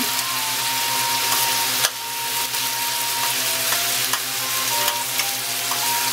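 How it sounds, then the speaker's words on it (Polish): Tomatoes, capers and green olives sizzle loudly and steadily in a hot pan, a bright hiss with occasional scraping clicks from stirring, close up and with no voices. "smażymy jakieś 3 minuty."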